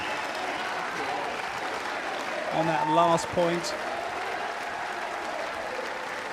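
Home crowd applauding steadily throughout a wheelchair tennis match at the 2012 London Paralympic Games, broad sustained clapping with a commentator speaking over it briefly.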